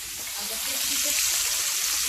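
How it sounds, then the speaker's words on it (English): Close, loud sizzling of red fish frying in a hot pan, a steady crackling hiss throughout. "We're gonna have some fish, which you hear all that sizzling."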